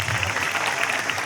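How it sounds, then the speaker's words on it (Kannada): Audience applause at a Kannada music programme: a brief, dense patter of clapping at moderate volume, continuous and even throughout. "ಬರ್ಲಿ ಜೋರಾದ ಚಪ್ಪಾಳೆ"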